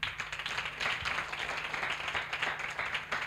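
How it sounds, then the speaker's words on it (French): Audience applause after a sung worship song at a gathering, a lively, fairly dense spread of claps holding steady for a few seconds at moderate distance. "qu'on va applaudir encore une fois"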